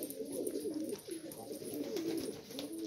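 Four homing pigeon chicks cooing in a loft, soft warbling coos repeating in a steady, wavering pattern over light background noise, fairly close and with no talking.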